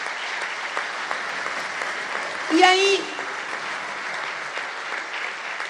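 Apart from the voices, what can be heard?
audience applauding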